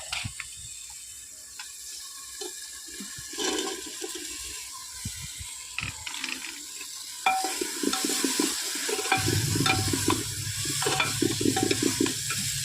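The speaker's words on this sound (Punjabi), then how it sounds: "ਲੋ ਜੀ ਮਸਾਲਾ ਪੁੱਜ ਗਿਆ ਪਾ ਆਲੂ" Potatoes tossed into a pan of cooking masala for a Punjabi curry, with steady stirring scrapes and a low sizzle of frying that grows denser in the latter half, close and fairly quiet.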